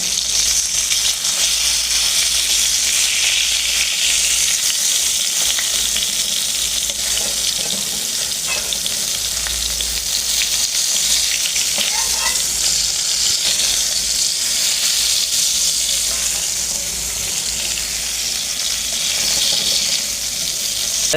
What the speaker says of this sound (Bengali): এই যে বেগুন ভাজা শুরু করে দিয়েছি।